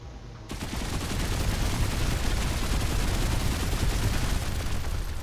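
Dense, continuous barrage of cannon fire from a space weapon in the Star Control Origins video game, loud and sustained after a brief quieter opening, with no talking.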